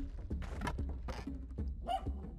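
A small dog pup in the Spelunky 2 video game yips and barks several times in short bursts over steady low game music, fairly close and clear.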